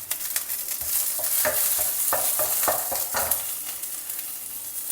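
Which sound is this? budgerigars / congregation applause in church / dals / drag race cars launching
dals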